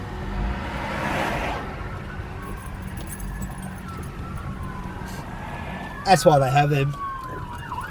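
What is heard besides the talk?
fire truck siren on the road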